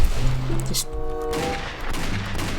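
Dense, loud gunfire from the mule shotgun in the Roblox game The Wild West, with booming reports and a muddle of overlapping shots during bear hunting, and a voice partly heard beneath it.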